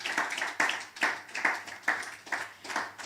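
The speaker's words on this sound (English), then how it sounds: "A round of applause for him." Rhythmic clapping at a family wealth conference in Nigeria, a few hands beating in a steady pulse of sharp, evenly spaced claps with no voices over it.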